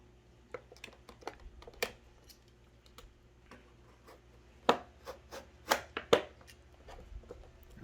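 Blade cuts into Age of Calamity champion amiibo packaging. Quiet, close-up crisp ticks and scrapes come in irregular bursts, with a sharper flurry of snips and cuts near the end.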